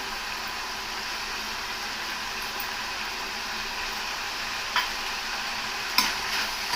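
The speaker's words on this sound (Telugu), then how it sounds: "ఇప్పుడు ఇది బాగా నూనెలో వేయించేస్తాం." Red chillies and cumin frying in oil in a pan, a steady hiss of sizzling with a couple of faint clinks from stirring, moderately quiet and close, with no voices.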